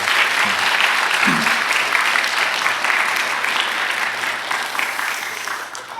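A congregation at a Wednesday church worship service breaks into loud, sustained applause. Many hands clap evenly for about six seconds before tapering slightly at the close.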